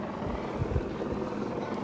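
A helicopter flies over a sailing race, its rotor producing a steady, rumbling chop with a constant low drone and no pause.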